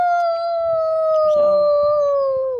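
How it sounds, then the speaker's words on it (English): A neighbour's dog howls in one long, steady, loud wail that holds level for more than two seconds and then slides downward at the end. Faint low background noise sits underneath. "My neighbor dog is howling"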